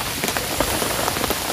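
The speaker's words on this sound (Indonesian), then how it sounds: "Apalagi hujan malam ini." Heavy night rain pours onto a camping shelter, a dense, continuous patter with scattered sharper drops hitting the surface close by, steady and loud with no voices.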